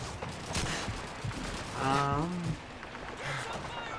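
Machine-gun fire in the World War II shooter Call of Duty 2, a .30 cal laying down suppressing fire from a window: dense, steady battle noise of rapid shots with a shouted voice rising briefly in the middle.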